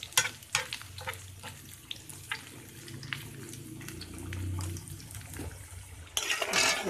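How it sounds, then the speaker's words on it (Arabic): Macaroni boils in a pot for Egyptian koshari, with bubbling, scattered clinks and stirring noises, then a louder gush of water near the end. "ادي المكرونه اهي تتسلق اهي، قربت تتسلق اهي اهي"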